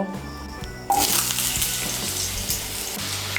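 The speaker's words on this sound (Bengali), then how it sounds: "আমি কড়াইতে 3 বড় চামচ সাদা তেল দিয়ে দিয়েছি। তেলটা আমার গরম হয়ে গিয়েছে। এর মধ্যে প্রথমে আমি মিষ্টি কুমড়োগুলো ভেজে নেব।" Pumpkin pieces dropped into hot white oil in a wok burst into a loud, steady sizzle after a brief quiet start, with occasional clinks of the spatula close by.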